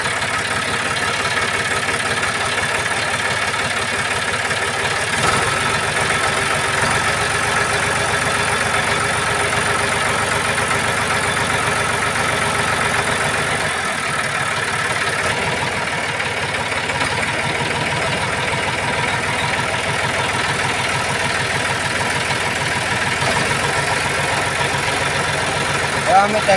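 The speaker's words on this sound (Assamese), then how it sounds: "আমি ট্ৰেক্টৰ চলাই গৈ আছোঁ" A tractor engine drones steadily while being driven, a constant low mechanical rumble with slight shifts in load over nearly half a minute.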